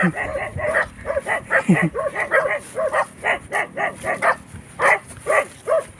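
A dog barks repeatedly at close range, a rapid run of short, loud yaps with a few whimpery notes mixed in, while people talk and laugh in the background.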